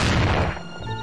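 A single loud gunshot in the video game Mafia 2 cracks up close, its broad burst fading into a low rumble within about half a second.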